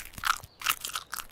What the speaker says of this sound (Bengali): কাঠবিড়ালি সব খেয়ে ফেললো